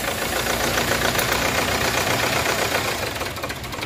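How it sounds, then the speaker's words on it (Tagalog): A Kia Sorento engine runs roughly and unevenly at idle, shaking and failing to stay running, a steady low rumble with a shaky, knocking texture throughout. "talagang hindi siya tumutuloy, nanginginig yung makina."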